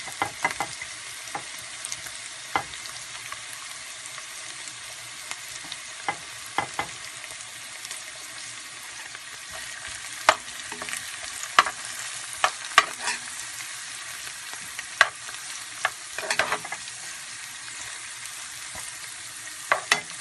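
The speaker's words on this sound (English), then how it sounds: "we are adding our minced garlic" Minced garlic sizzles in a pan for a four-cheese lasagna sauce, a steady frying hiss with scattered sharp crackles and occasional utensil scrapes as it is stirred, close and fairly quiet throughout, no voices.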